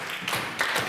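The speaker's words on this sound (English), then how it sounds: "Can we just have a round of applause?" Brief burst of clapping from a small group at a multicultural end-of-year family dinner, a few scattered hand claps close by over soft room murmur.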